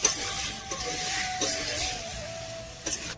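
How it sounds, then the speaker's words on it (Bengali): Mushroom and potato curry with spices stirred in a pan over a clay stove, a soft continuous sizzle broken by a few sharp spatula scrapes and clinks, close by and without speech. "আবার হালকা করে মশলার সাথে হালকা করে নেড়ে নিতে হবে, ভালো করে মিক্স করতে হবে।"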